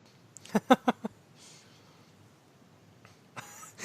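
A quick run of four sharp, loud coughs from one person close by, followed by a quiet pause and a soft rustle.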